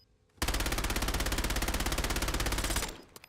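Kogot gun in Warzone fires one sustained, loud automatic burst of about two and a half seconds, rapid even shots with no pauses, then cuts off abruptly.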